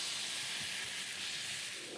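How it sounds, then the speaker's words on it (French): A Chinese 'thunderclap' dish sizzles and crackles as it is served in a Chinese restaurant in Bordeaux, giving a steady bright hiss with faint scattered pops, fairly quiet and continuous without speech. "c'est un plat sonore parce que ça crépite"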